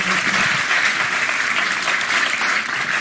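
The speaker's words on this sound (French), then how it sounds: "vous êtes applaudi par les supporters qui sont sur le plateau de Beansport" Football supporters on a French TV studio set applaud a player after the France–Belgium 1-0 match, a loud, dense and steady burst of clapping that fills the whole stretch without a break.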